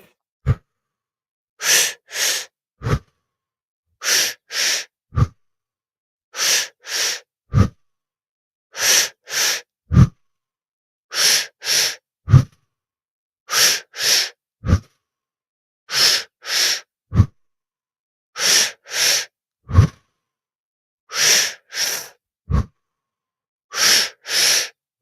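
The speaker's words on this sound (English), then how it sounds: "And just keep breathing." Slow, deep breaths during a guided breathing exercise, close and alone: steady cycles of airy inhales and exhales, each ending in a short sharp click, repeating roughly every two and a half seconds.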